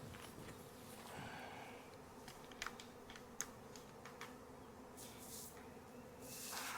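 Soft, steady buzzing of a wild honeybee colony being installed into a hive fills the background, with a few faint clicks and a brief hiss near the end.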